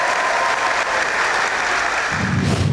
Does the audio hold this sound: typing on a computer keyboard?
no